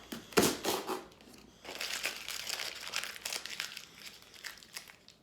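Masking tape peeled off Hornby model packaging, giving close crinkling and tearing rustles in uneven bursts, with one sharper rip near the start, then steady crackling paper and tape noise.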